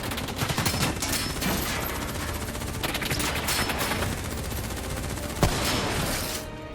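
Heavy sustained gunfire in a Black Ops 3 cutscene, a dense, loud, continuous barrage of rapid shots with one sharper crack near the end.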